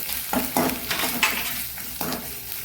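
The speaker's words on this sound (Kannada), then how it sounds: "ಇದರದ್ದು ಹಸಿ ವಾಸನೆ ಹೋಗುವವರೆಗೆ ಎಲ್ಲದರದ್ದು ಮಸಾಲೆದ್ದು ನಾವು ಹುರಿದುಕೊಳ್ಳೋಣ" A spoon stirs and fries spices with chili and coriander powder in a pan with a soft steady sizzle. A few close scraping strokes of the spoon against the metal come over it, with no talk.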